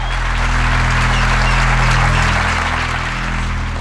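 A Raëlian audience applauds its prophet, a dense, sustained wall of clapping filling the hall steadily from start to finish with no pauses.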